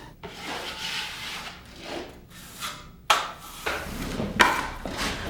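A thin coat of joint compound is spread over taped drywall fasteners: repeated close rasping and scraping strokes come in uneven swipes, with a few sharper scrapes, and no speech.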